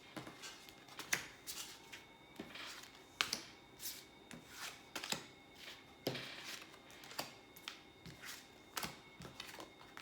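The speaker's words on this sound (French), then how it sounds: "Donc on va faire un tirage à 5 cartes." Oracle cards are shuffled by hand for a five-card reading, giving soft repeated riffling and slapping clicks at an irregular rhythm, close and quiet with no talk.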